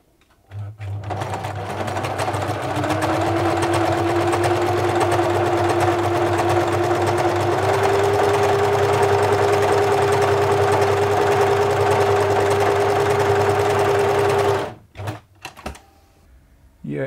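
A Singer Futura Electronic 2002 sewing machine from the 1980s stitches with Gutermann cotton thread, giving a loud, steady mechanical whir and rapid needle rhythm that rises slightly in pitch midway and runs for about fourteen seconds before stopping abruptly.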